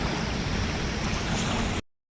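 Water sprays up as a pickup truck speeds through a flooded road in the rain: a loud, continuous rushing splash that cuts off abruptly near the end.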